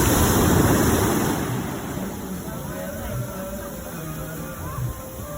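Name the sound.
ocean waves on a beach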